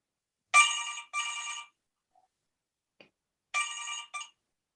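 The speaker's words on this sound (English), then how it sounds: "the phone rings and it's answered by a young detective" A telephone rings in a police murder incident room in a stage performance: two distinct double-burst trills separated by a quiet pause, clear and close, with no voices.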